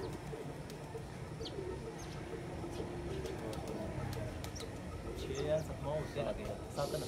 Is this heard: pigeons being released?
yes